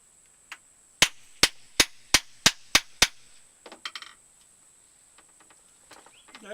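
A hard cast bullet is forced into the rifling of an Alonzo Selden rifle with a series of seven sharp, evenly spaced metallic knocks, followed by quieter scraping and clicks.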